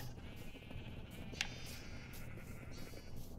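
Faint bleating from a sheep in Minecraft rises over low background game noise, with a few soft bleats and a brief sharp click midway.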